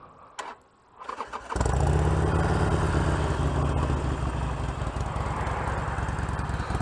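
A motorcycle engine cranks briefly after a few small clicks, then catches and settles into a loud, steady idle with a close, rapid throbbing pulse that continues to the end.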